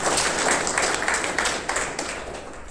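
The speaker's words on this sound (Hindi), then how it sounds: "तालियां बजाओ तीनों के लिए।" An audience at a spoken gathering bursts into applause, with many hands clapping in a dense, loud patter that eases off slightly toward the end.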